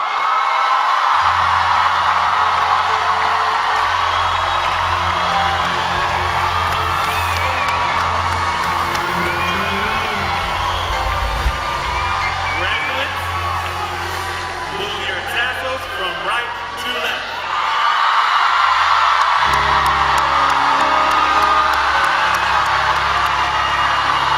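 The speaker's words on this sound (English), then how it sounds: "I think we have more applause than that" A high school graduation audience cheers, whoops and applauds at length, a loud mix of shouting voices and clapping that dips briefly near the middle before swelling again.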